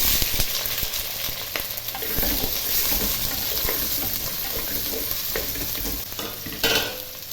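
Cut onions fry in oil over popped mustard seeds for a traditional Kerala country chicken curry, a loud steady sizzle with stirring scrapes and crackles throughout, rising briefly near the end, no voices.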